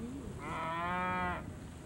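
One cow gives a single drawn-out moo, moderately close, against a quiet outdoor farm background near a calf barn.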